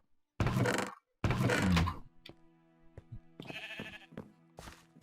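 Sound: sheep bleating in the video game Minecraft

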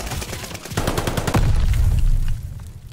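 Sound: gunfire in Call of Duty: Vanguard video game

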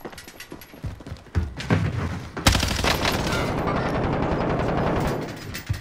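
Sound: gunfire in video game

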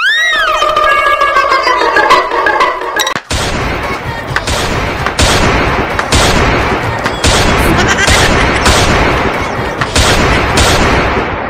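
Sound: toy cap gun (tikuli gun) firing during Diwali

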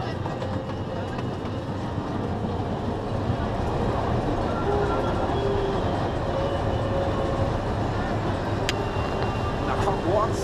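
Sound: Heide Park Express amusement park train running on rails

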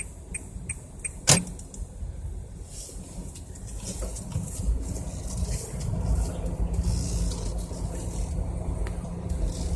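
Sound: automatic car driving forward into narrow lane

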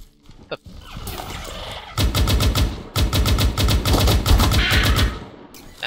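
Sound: gunfire shooting enemies in Firefall video game

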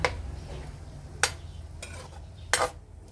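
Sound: stirring minced pork in pan for larb

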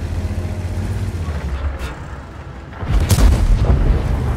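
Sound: tank cannon shot in a video game

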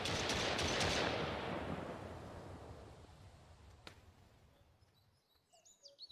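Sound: gunshots in the video game Mist Survival

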